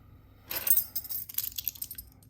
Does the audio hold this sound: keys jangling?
yes